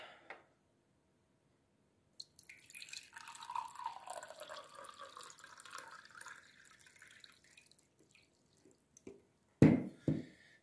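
Purified water pours into a drinking glass in a quiet kitchen, a trickling stream that rises in pitch as the glass fills and then fades, followed by a short clunk as the glass is set down.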